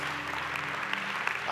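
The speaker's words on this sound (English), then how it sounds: "come on, clap your hands unto the Lord" A church congregation claps hands together in dense, steady applause that keeps going throughout.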